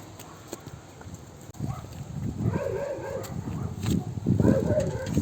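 Several cows walking home at midday, a loose shuffle of hooves with faint lowing and some background noise, getting louder midway.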